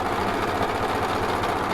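A serger, or overlocker, sewing a lettuce edge hem on fabric gives a steady, fast mechanical whir with a rapid even stitching rhythm, close and continuous, with no talk.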